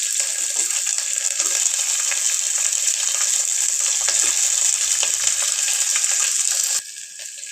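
Small onions with curry leaves frying in a pan for paruppu sadam, a steady loud hiss and sizzle with faint stirring clinks, running continuously before dropping slightly near the end.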